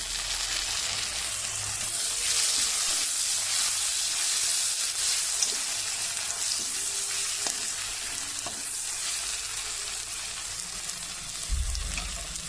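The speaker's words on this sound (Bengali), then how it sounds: "পেঁয়াজটা বাদামি কালার হয়ে আসছে এখন টমেটোটা দিয়ে দিই" Chopped tomato dropped onto browned onions frying in oil, a loud, close, steady hissing sizzle with faint stirring throughout, no speech.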